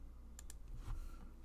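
A computer keyboard gives a few sparse, faint clicks and taps, close by and quiet, with no voices.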